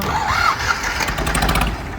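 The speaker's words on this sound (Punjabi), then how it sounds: "ਆਪਾਂ ਤੁਹਾਨੂੰ ਥੋੜੀ ਸਟਾਰਟਿੰਗ ਆਵਾਜ਼ ਵਗੈਰਾ ਚੈੱਕ ਕਰਾਉਨੇ ਟਰੈਕਟਰ ਦੀ" An Indofarm 3055 tractor with a new-model self starter cranks and fires up, its engine catching with a rough, uneven rumble that settles toward an idle, loud and close with no talk over it.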